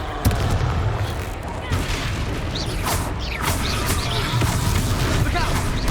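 Confringo explosive spell blasts in the Hogwarts Legacy video game, booming and crackling amid dense, continuous battle noise with rumbling low end and scattered sharp bursts, loud throughout.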